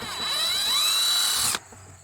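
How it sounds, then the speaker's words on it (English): Power drill whining as it bores a hole in the metal of an old abandoned semi trailer, the pitch rising as it spins up, then cutting off abruptly, close and loud. "I've been working on drilling holes in the metal here, like so."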